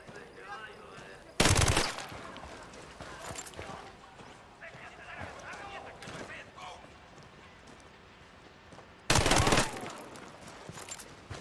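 Video game shootout with two loud, sharp bursts of gunfire, one early and one late, over a busy low-level background of movement and scattered quieter reports.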